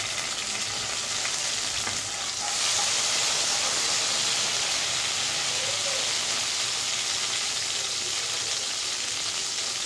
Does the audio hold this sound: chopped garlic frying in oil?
yes